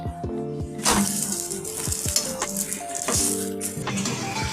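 Steady, close sizzle of an aloo kulcha flatbread frying in ghee on a hot pan, with occasional clinks and scrapes of a utensil. No one speaks.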